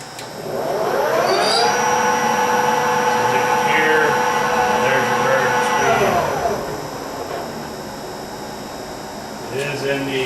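A Clausing 18x60 variable-speed geared metal lathe starts and spins up to high speed, a loud whining motor hum rising in pitch, holding, then winding down near the end.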